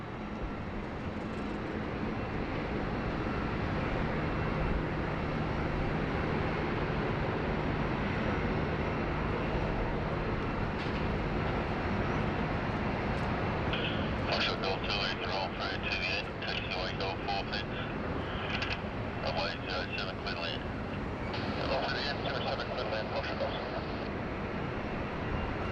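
A heavy airliner takes off from runway 16 right at Sydney Airport: a loud, steady, broad jet roar that holds throughout, with someone talking over it.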